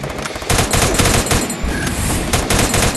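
Rapid automatic gunfire in the mobile shooter Free Fire during a 4v4 match, dense, loud bursts of shots filling the whole stretch with almost no pause.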